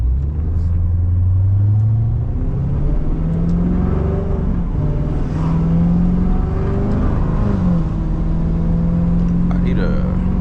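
A C7 Corvette engine pulling steadily with rising and falling revs as the car is driven, a deep, loud, continuous rumble heard from inside the cabin, with a voice talking over it.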